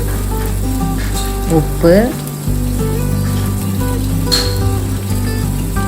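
Ivy gourd frying with turmeric, salt, chilli powder, cumin and pepper, a steady close sizzle in the pan while someone talks over it, with a brief clink partway through.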